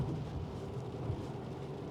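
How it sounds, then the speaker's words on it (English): Steady rain hiss and road rumble inside a GWM Ora Good Cat GT Edition being driven up Genting in the wet, a continuous even wash with no talking. "It's still raining."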